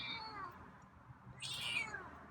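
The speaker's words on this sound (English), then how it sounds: "got some meows tonight" A feral cat meows close by indoors at night, one drawn-out rising and falling call followed by a sharper second cry, with no talking over it.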